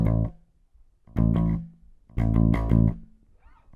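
Bass guitar playing a riff, with short bursts of repeated low notes separated by brief gaps, loud and close with no talking.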